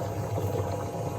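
Water draining out of a van's water system onto a driveway, a steady close gurgling, splashing flow that runs without pause for about a second.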